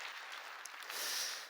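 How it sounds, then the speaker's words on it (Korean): Steady applause from a church congregation fills the room, a dense continuous wash of clapping that swells slightly toward the end. "하나님께 박수입니다"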